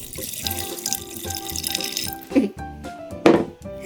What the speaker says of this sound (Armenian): Գնացինք իրա վրա, լցնում ենք ջուրը,